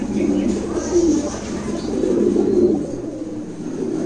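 Pigeons coo continuously at a pigeon farm where pairs of black birds sit on eggs, a low, steady, overlapping murmur that swells and fades with no speech over it.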